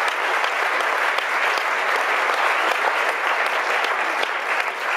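Audience at a film festival awards ceremony claps loudly and continuously for the winning shop window, a dense, steady round of applause with no talk over it.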